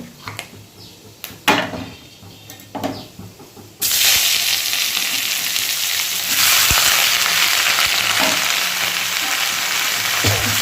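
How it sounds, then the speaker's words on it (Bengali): Dried red chillies and mustard seeds hit hot oil in a kadai for a tempering, bursting into a loud, steady broadband sizzle after a few quiet knocks and pops, continuing without talk. "কড়াইতে তেল দিয়ে দিয়েছি তেলটা গরমও হয়ে গেছে দুটো শুকনো লঙ্কা দিয়ে দিলাম ফোড়নে আর একটু সর্ষে দিলাম"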